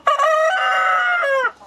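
A single loud, close chicken crow from a farm flock lasts about a second and a half, held steady before trailing off, with no talking.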